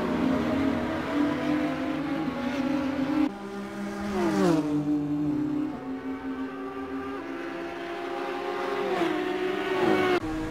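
TCR race cars lapping Monza in Assetto Corsa, a continuous engine roar that climbs and drops in pitch through upshifts and braking, loud and close with no pauses.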